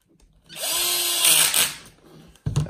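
A power driver whirs briefly as it drives bottom screws into a Losi 8ight RC car, a close rising motor whine lasting about a second, then a short clunk.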